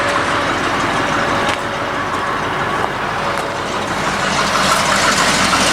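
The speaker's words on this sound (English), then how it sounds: "That's my dump truck video. It's running good" A dump truck engine runs steadily nearby, a loud, constant idle rumble with a faint whine and a few brief clanks, no voices.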